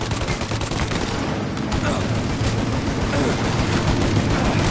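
Sustained gunfire exchange in the Mafia Definitive Edition video game, dense overlapping shots and bursts from several weapons forming a continuous loud fusillade for the whole stretch, with no pauses.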